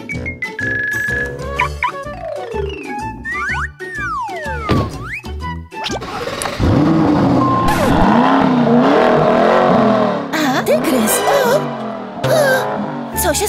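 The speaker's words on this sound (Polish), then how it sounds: "Wyłącz silniki!" Car engines run loudly and continuously in an outdoor setting, with skidding and tyre squeal mixed in and a busy, shifting roar filling most of the span; voices and chimes break in near the start.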